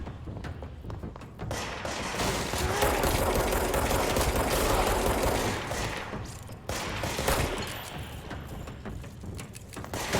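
Bursts of gunfire in the video game Control come in a sustained, fairly loud fusillade with repeated thuds, easing off briefly near the end before resuming.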